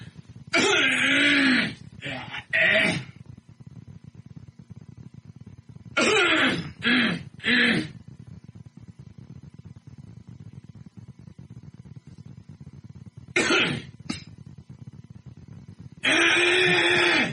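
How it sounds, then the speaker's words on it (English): A person clears their throat in a few harsh, raspy bursts separated by pauses, close up, with a final longer rough clearing at the end. "I got to clear my throat."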